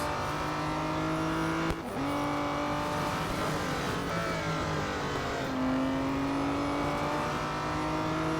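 Aston Martin Vantage GT3 race car engine in the Real Racing 3 game, a steady high engine drone with gear-shift dips and rising revs, moderately quiet, no talk.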